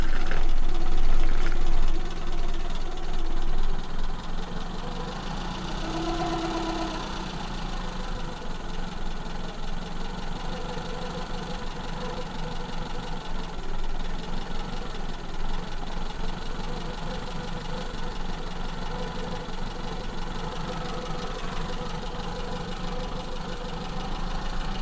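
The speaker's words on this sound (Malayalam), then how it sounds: "ഇനി ഈ കണ്ടീഷനിൽ എഞ്ചിൻ ഒന്ന് വാമപ്പ് ചെയ്യണം" A Maruti Zen with a carburetor engine idles steadily while warming up, a continuous close mechanical hum with a slightly louder start that settles into an even running note.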